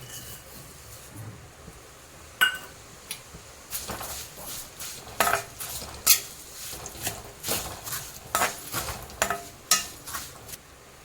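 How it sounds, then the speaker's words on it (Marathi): Vermicelli is roasted in ghee in a pan for sevai kheer, a spoon scraping and clinking against the metal in a steady series of close, sharp strokes over a faint sizzle. "आता आपल्याला त्याच तुपामध्ये ही शेव भाजून घ्यायची आहे"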